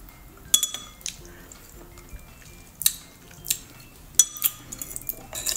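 A spoon clinks and scrapes against a glass of Milo and Coke with sugar, giving sharp, close taps and clinks spaced irregularly over a faint fizzy background.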